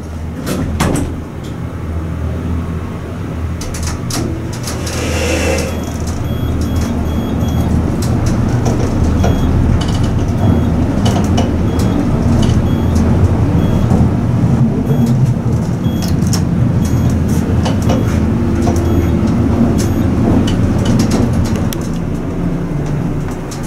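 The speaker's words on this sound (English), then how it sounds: "We have some modernized elevators to ride." A modernized elevator rides inside the 125 North Market building in Wichita, with a steady loud hum and rumble of the moving car, plus scattered clicks and rattles of the cab and doors throughout.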